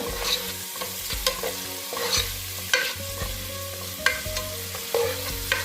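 Garlic and ginger frying in a pan while being stirred, with a steady sizzle broken by repeated scrapes and clinks of the spoon at a regular pace. The sound is close and there is no talking.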